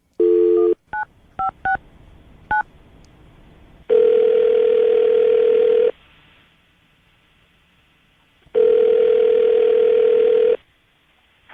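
A telephone line plays a quick run of touch-tone dialing beeps, then two long, loud ringback tones separated by silence as a radio show places a call.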